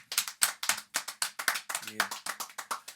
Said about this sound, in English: let's give a round of applause for Shorty DuWop